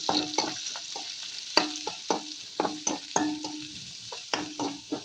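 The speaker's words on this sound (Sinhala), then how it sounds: "තෙල් ටිකක් තාච්චියට දමා එය රත් වන විට සුදු ලූණු දමා" Garlic sizzling in hot oil in a pan while a utensil scrapes and stirs it, giving repeated short clacks over a steady frying hiss, close and fairly loud.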